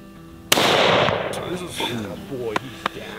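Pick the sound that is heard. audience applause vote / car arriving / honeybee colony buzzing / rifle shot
rifle shot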